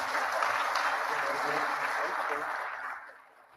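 An audience at a manufacturing-program completion ceremony claps for a graduate who is absent, a moderate burst of applause that holds for a few seconds and then fades away.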